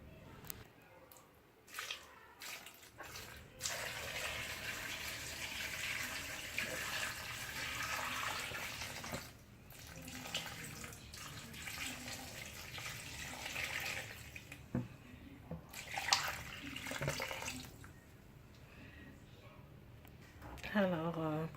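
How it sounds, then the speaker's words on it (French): Water running into a six-litre basin over pineapple, cucumber and lemon, a steady splashing and gurgling stream that rises and shifts in tone as it fills, with some faint dripping and a few quiet handling noises. "Je vais remplir de l'eau. Jusqu'à ras-bord, là. Jusqu'au-dessus des légumes."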